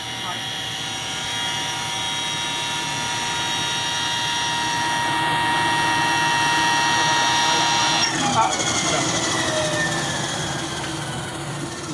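An Eliica electric car's motor whines steadily as it spins up smoothly past 8,000 RPM, a sustained high tonal drone with a shift near the end; a voice talks over it.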